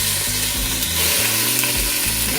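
Skinless chicken pieces sautéing in oil on a medium-high stovetop give a loud, constant sizzle and crackle, up close, with some low clatter of handling and no talk.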